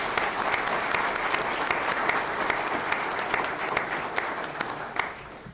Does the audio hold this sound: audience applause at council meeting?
yes